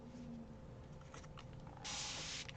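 A hand spray bottle mists liquid onto a cloth transfer to soak it. One longer hissing burst of spray is heard near the end, close and clear over a faint background.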